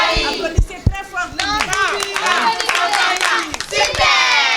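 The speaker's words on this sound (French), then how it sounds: "Applaudissez très fort." Children and adults at an orphanage clap and shout excitedly, with irregular handclaps and high cheering voices overlapping close by in a lively burst.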